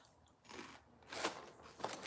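Someone bites into and chews a crunchy fruity snack in a garage, producing a few close crisp crunches spaced irregularly over two seconds, with no talking.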